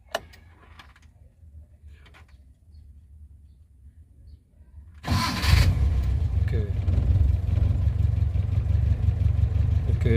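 Suzuki Carry engine cranks and catches on the first press of the starter after a capacitor bank is fitted, then settles into a steady, loud idle close by following a quiet stretch of faint background noise.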